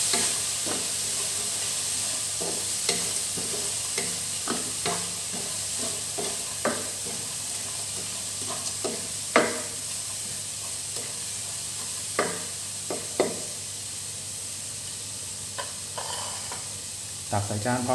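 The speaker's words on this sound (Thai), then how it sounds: "คลุกเคล้าให้เข้ากันครับ" Dried sun-cured fish tossed with chili and garlic in a pan, a steady sizzle under repeated scraping and clattering strokes of a spatula, close and fairly loud throughout.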